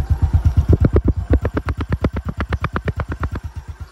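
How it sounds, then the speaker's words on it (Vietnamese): A 2008 Honda Wave 125i motorcycle runs with its exhaust close by, giving a steady rapid train of pulses that stays loud and even for about four seconds. "mọi người nghe cái tiếng bô nè"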